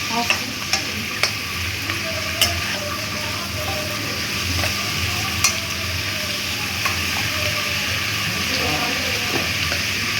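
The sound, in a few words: mushrooms frying in a kadai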